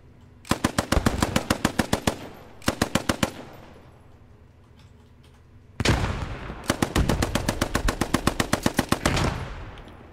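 Machine gun fire in the World War II shooter game Post Scriptum comes in loud, close rapid bursts: a long burst, a short one, then a pause and a sustained final volley, with echoing reverb in between.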